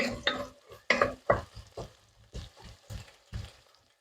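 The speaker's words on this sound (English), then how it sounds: "I don't think this is frying too badly" Filling for a lasagne fries in a pan, with a soft sizzle broken by a series of quick, irregular scraping stirs and utensil knocks against the pan, heard close and alone.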